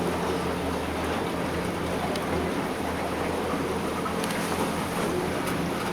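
Yamaha F350 5.3L V8 outboard engine idling at about 600 rpm on a boat, a steady, quiet low rumble with water and wind noise, no talk.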